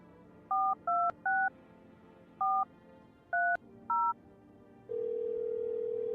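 Telephone keypad tones in the video game No, I'm Not a Human: six short, clear dial beeps in two quick groups, followed by a steady, continuous dial tone, with no talking.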